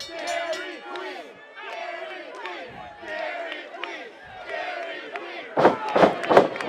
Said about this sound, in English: This crowd chanting Dairy Queen at King Brian Anthony